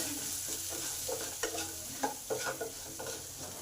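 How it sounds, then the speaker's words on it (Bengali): Potatoes frying with salt and turmeric in a pan, a steady sizzle with intermittent scraping and clinking as they're stirred. "এবার আলুগুলোকে নুন হলুদে ভালো করে কষে নিলাম 2 মিনিটের মতো"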